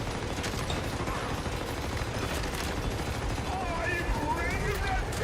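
Bursts of gunfire ring out from enemy gunners in a shooter video game, rapid and overlapping amid mechanical clatter, dense and loud throughout.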